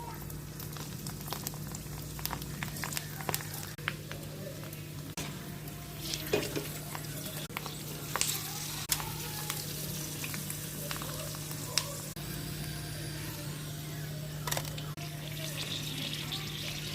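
Fuchka puffs frying in hot oil, a steady bubbling sizzle with occasional stirring clinks and scrapes, heard close up with faint background voices.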